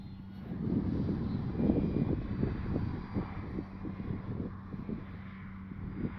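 Durafly Tundra V3 RC airplane on 4S power flying low in wind, its electric motor buzzing steadily with gusty wind noise over the microphone, no talking.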